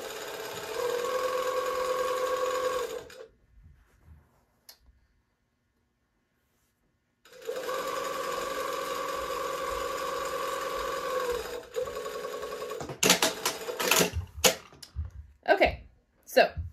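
A sewing machine stitches a shirt dress yoke seam in two steady, close runs of buzzing motor hum separated by a pause, then a burst of clicks and handling knocks at the end.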